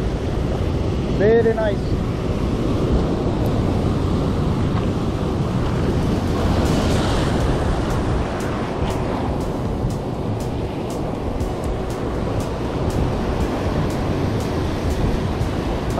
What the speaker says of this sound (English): Let's see the waves.